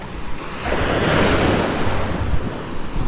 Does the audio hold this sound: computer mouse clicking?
no